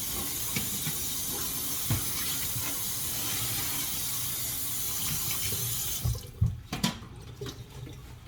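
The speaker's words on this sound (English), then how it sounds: "So I rinsed the inside of it out." Tap water streams steadily into a dish being rinsed out at a sink, a loud even hiss that stops near the end, followed by a few clunks and knocks as the dish is handled.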